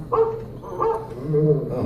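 Animatronic dog at Disney's Carousel of Progress in Magic Kingdom gives a few short barks close by, mixed in with show dialogue and background music.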